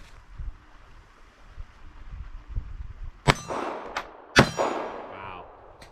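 Ruger Security 380 pistol loaded with flat-nose rounds fires two sharp, close shots about a second apart, each with a brief metallic ring, over faint outdoor wind and rustling.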